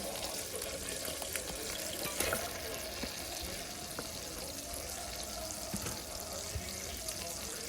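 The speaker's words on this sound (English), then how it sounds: "Let that butter melt right quick, y'all. And now we're gonna add our onions." Onions frying in melted butter in a pan make a dense, continuous sizzle that holds steady and close, with faint stirring ticks and no talk.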